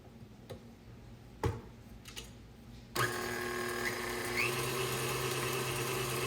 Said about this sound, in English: I'm going to put the mixer on a lower speed, medium-low.